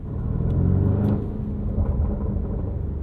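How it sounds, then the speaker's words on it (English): A 2024 Porsche Cayenne Turbo Coupe's V8 with an optional sports exhaust revs with a loud, raspy, deep rumble, swelling early and then holding a steady growl nearby. "Very raspy and angry V8"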